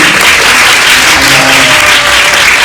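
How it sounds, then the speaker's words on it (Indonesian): Loud, dense applause from a Grade 11 class at a school debate fills the whole stretch, a steady wash of many hands clapping with no break. "berikan tepuk tangan untuk kelompok ini"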